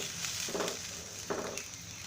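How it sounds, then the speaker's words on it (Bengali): Mixed vegetables simmering in vegetable stock in a pot as it comes to a boil. A faint, soft bubbling hiss runs throughout, with a couple of slightly louder gurgling bursts. "অপেক্ষা করছি ভালোভাবে বলক আসার জন্য।"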